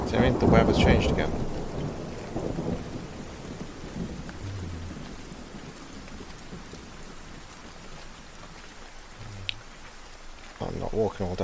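Thunderstorm with rain in Everybody's Gone to the Rapture: a loud crack and rumble of thunder opens, then continuous rain hisses steadily, with another burst of thunder near the end and a voice speaking at times.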